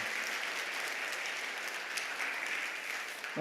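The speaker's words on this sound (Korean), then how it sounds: "환영의 박수 드리겠습니다" Church congregation giving welcoming applause to newcomers, a steady, fairly soft and distant patter of many hands throughout, ending with a brief louder sound.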